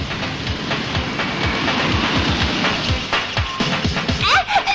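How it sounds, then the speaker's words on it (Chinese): Passing train rolling on rails, with a steady rumble and repeated low clacking beats from the wheels that hold through the whole stretch. Brief voices and a squeal come in near the end. "火车马上就来了"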